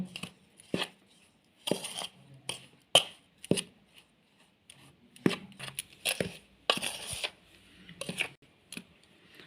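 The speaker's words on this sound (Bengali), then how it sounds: "এবার আমি এই শুকনো উপকরণগুলিকে প্রথমে ভালো করে মিশিয়ে নেব।" Flour, baking powder and baking soda for a chocolate cake are mixed in a bowl, heard as irregular bursts of sharp clicks and scraping taps from a utensil against the bowl, with brief quiet gaps between strokes.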